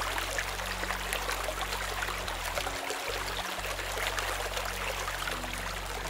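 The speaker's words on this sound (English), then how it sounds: "we have our outdoor shower, which is located right over here." Water runs steadily from an outdoor shower at a custom-built home, a constant close hiss and splash with no talk.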